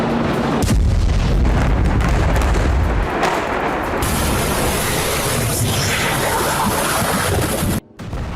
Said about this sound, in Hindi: आईडीएफ ने लेबनान के उन इलाकों में बमबारी की जहां हिजबुल्लाह के ठिकाने, मिसाइल और रॉकेट लॉन्च साइट मौजूद है